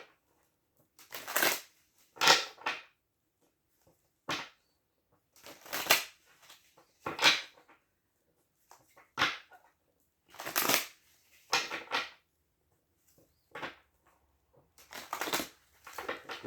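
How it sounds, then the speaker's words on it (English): Tarot cards shuffled in repeated short bursts of riffling and rustling, close and crisp, separated by quiet pauses. "One more shuffle, and then we're going to cut them 3 times"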